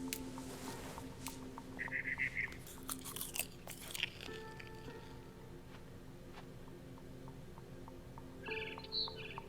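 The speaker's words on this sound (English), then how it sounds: "Then I heard chirping outside my window. It was a barn swallow going back to her nest." Barn swallow chirps in the What Remains of Edith Finch video game, brief bright bursts set over a steady hum and crunching game sounds, faint and at a distance, with no one talking.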